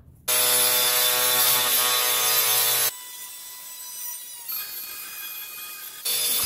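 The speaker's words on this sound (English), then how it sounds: "I'm gonna use an angle grinder with a diamond tip blade to cut through the plaster" An angle grinder with a diamond blade cuts through plaster in a loud, high whine that stops abruptly, then continues as quieter spinning and grinding bursts.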